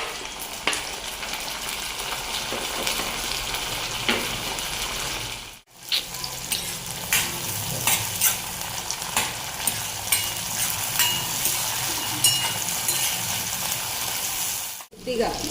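Onions, green chilies and tomatoes fry in a pan for pumpkin curry, giving a steady broadband sizzle with occasional stirring scrapes and watery crackles, close and continuous apart from two brief breaks.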